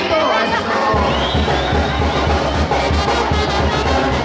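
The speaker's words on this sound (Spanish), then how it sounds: "A ver, que se oiga el grito." A large crowd in Nurio, Michoacán shouts and cheers loudly and continuously, a dense roar of voices with some higher cries mixed in.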